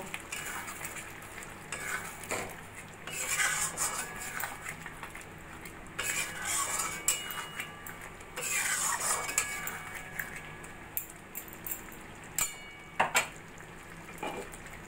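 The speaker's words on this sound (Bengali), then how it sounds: "ভালো করে মাংসের সঙ্গে মিশিয়ে নেব" Mutton kosa in a pot being mixed with whisked yogurt and Kashmiri chili powder: continuous scraping and stirring with intermittent metallic clinks of a spoon against the pot over a low sizzle.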